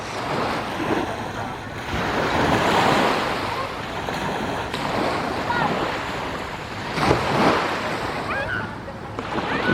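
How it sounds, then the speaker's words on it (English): Surf rolls onto the pink-sand Subic Beach on Calintaan Island in the Philippines, waves washing in steadily and close with a few louder breaks, while wind buffets the microphone throughout. "So that's Subic Beach. It's a very beautiful place."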